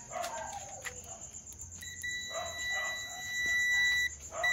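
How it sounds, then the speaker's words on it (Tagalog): A continuity tester gives a thin, steady high-pitched electronic tone that starts and stops in short stretches while checking starter wiring on a Rusi TC-125 motorcycle, over faint background noise with no talking. "continuity natin kung tutunog, dapat ganito maging tunog niya."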